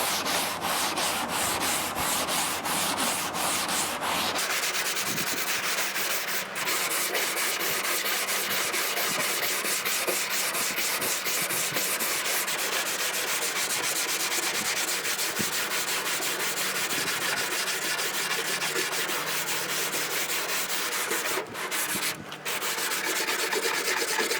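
An 80-grit sanding block rubs back and forth over Bondo body filler on a mini truck, a close, continuous gritty scratching in quick, even strokes throughout.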